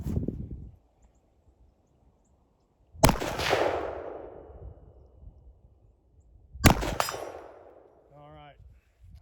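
Two sharp pistol shots fired from a handgun with a red dot sight, each followed by a ringing metallic decay from the struck target, spaced a few seconds apart in an otherwise quiet outdoor setting.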